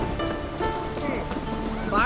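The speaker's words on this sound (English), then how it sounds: "Oh, raining again." Steady rain in The Witcher 3: Wild Hunt, heard as a dense continuous wash with faint tonal game sounds and a voice over it.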